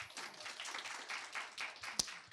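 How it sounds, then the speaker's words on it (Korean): Audience at a counseling-field human resources forum gives a short burst of steady clapping, a dense patter that ends with one sharp louder clap. "다시 한번 박수 한번 부탁드립니다."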